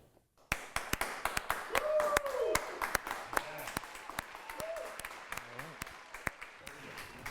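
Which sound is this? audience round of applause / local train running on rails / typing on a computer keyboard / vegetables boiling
audience round of applause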